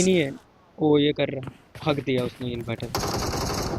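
Bursts of gunfire in a PUBG Mobile esports match, rapid automatic shots clustered near the end and scattered earlier, mixed under continuous excited commentary from a caster.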